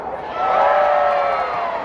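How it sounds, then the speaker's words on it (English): Crowd at a live jousting show cheering and whooping loudly, a sustained roar of many voices swelling and holding steady through the moment. "And the crowd goes insane."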